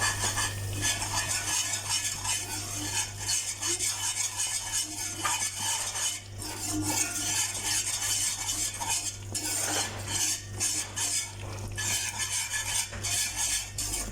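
A ghee and oil mixture for Mysore pak is stirred over a low flame, a utensil scraping and clinking against the pan in continuous close strokes above a faint sizzle, with no voices.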